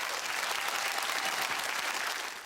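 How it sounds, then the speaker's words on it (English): A studio audience applauds in a dense, steady burst of clapping heard close and full, holding evenly before easing slightly at the end. "the audience clapped, and as the applause died"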